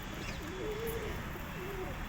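Pigeons coo softly at a distance in a quiet setting, with two low, rolling coos against a steady background hiss.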